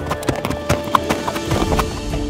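Cartoon horse hooves clip-clopping in a quick irregular rhythm, close and clear, with a brief whinny-like accent in the middle.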